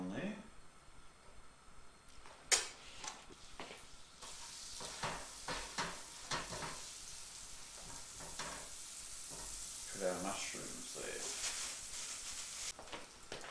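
Butter and mushrooms sizzle in a pan on a Gasmate Travelmate II portable gas stove, a steady frying hiss with occasional stirring scrapes running under a person talking throughout.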